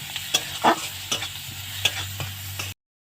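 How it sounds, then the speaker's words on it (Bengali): Boiled soybean chunks sauté in a hot pan with a steady sizzle, punctuated by several stirring scrapes and spatula knocks; no one talks, and the sound cuts to silence just before the end. "এবার এটা দিয়ে আমি একটু ভালো করে কষিয়ে নেব"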